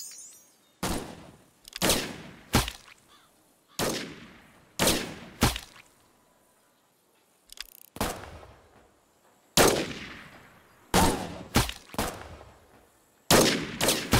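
Sniper rifle shots in a mobile sniper shooting game, about a dozen sharp, loud single cracks, each trailing off in a brief decay, spaced irregularly with short pauses and no talk.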